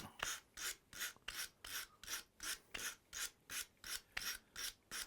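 A billiard cue tip being sanded with abrasive paper while the cue is turned, a steady rhythm of about a dozen evenly spaced rasping strokes, close and clear with no voice.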